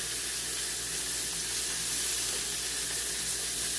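Beef pot roast browning in a hot pan, a close, continuous sizzle and hiss with no talk.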